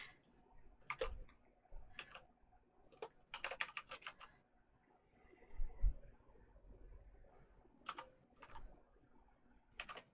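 Bursts of computer keyboard typing, close and fairly quiet, come in short irregular clusters of rapid key clicks with pauses between them, alone without speech.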